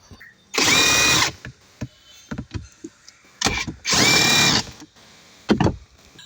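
A power tool runs in two short, loud bursts, each about a second long, as it loosens 10 mm nuts on the lower dashboard cover of a Hyundai Creta. Quieter clicks and handling noises fill the gaps between the bursts.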